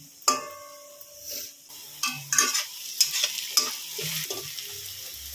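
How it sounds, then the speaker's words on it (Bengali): Sliced onions slowly frying in a pan over a low to medium gas flame, a steady soft sizzle broken by repeated scraping stirs and light clinks, fairly close and alone without voices. "গ্যাসের ফ্লেমটা লো টু মিডিয়ামে রেখে এটাকে খুব আস্তে আস্তে করে ভেজে নিতে হবে"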